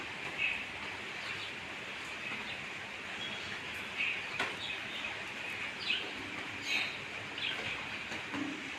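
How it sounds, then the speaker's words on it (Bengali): Birds chirp intermittently in a yard on a rainy morning, short bright calls scattered over a steady hiss of light rain. "আর পাখির আওয়াজ"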